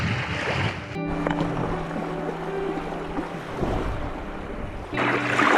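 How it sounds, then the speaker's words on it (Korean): Wind-driven waves wash steadily against the shore of a lake in Tajikistan at a campsite, a broad continuous rush of water and gusting air with tonal hums rising above it at times. "바람이 맑으니까 파도가 치고 있어"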